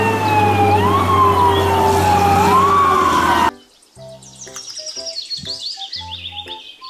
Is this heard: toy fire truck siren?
yes